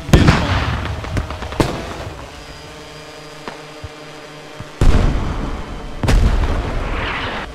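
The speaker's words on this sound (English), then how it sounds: "Oh my god, that was a good hit with the helicannon" Heavy helicannon rounds from a helicopter in Squad's Middle East Escalation mod boom repeatedly, several loud blasts spread across the stretch with reverberating rumble and distant impacts between them.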